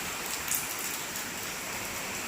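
Steady monsoon rain pours outdoors in an even, dense hiss with no breaks and no talking.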